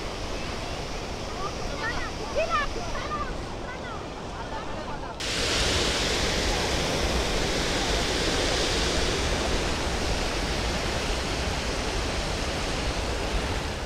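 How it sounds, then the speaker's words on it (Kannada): Edamuri waterfall near Srirangapatna in Yadathittu, a broad steady roar of falling water that is loud and continuous. Faint birdsong is heard early, then the rush grows louder and fuller partway through. "ಇದು ಬಂದು ಎಡಮುರಿ ಫಾಲ್ಸ್."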